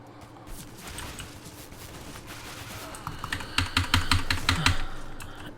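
Typing on a mechanical keyboard fitted with Cherry MX Blue switches, a fast run of sharp clicky keystrokes that grows busier and louder toward the end, heard close up over a steady background hum.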